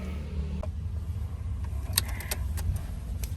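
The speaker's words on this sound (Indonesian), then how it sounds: "Subaru kita nyalakan." A turbocharged Subaru Impreza WRX engine starts and settles into a steady low rumble, with scattered sharp clicks and ticks over the top and no talking.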